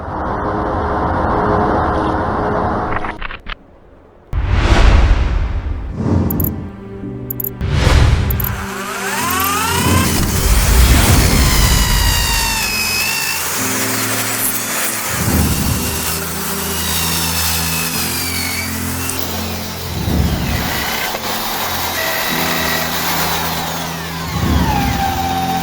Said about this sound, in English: later, we'll just grind it.